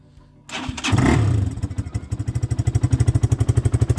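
A Geon Scrambler 250 motorcycle engine cranks and catches on a cold winter start with the choke on, then settles into a steady, close, rhythmic idle that holds its revs while warming up.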